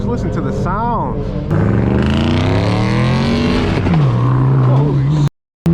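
Straight-piped BMW M4 F82 accelerating hard, its loud, raw exhaust climbing through rising engine tones with a shift and drop partway, close and dominant, while excited voices are heard alongside, ending in an abrupt cutoff.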